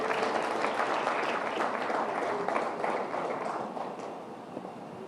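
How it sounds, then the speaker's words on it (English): Dense, sustained applause from a large audience at the India Today Conclave, steady and full at first, then easing slightly toward the end. "Please give him a round of applause."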